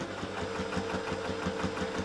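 A sewing machine runs steadily, top stitching along a seam line next to quilt binding, its needle pulsing in a fast even rhythm close by, with no talk over the motor.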